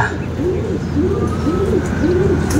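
A racing pigeon back at its loft, cooing nearby in a steady rhythm of about four soft, rolling coos over continuous outdoor background noise.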